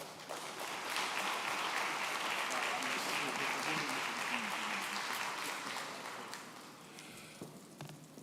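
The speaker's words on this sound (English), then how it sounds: "now this man has asked us to applaud so many times, but why not one more time for these great recipients" Sustained audience applause at a community center's 2021 gala honoring award recipients, a dense wash of clapping from a large crowd that holds steady for several seconds and then slowly thins toward the end.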